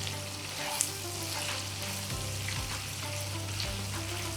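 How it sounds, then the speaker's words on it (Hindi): White chicken karahi fries in a pan with a continuous soft sizzle and crackle, and a few light stirring knocks come through. "थोरो हिनखे फ्राई था कयूं"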